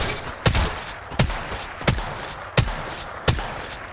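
Gunfire in a battle royale video game: five evenly spaced, punchy single shots at roughly 0.7-second intervals, loud and close, each with a short decaying tail.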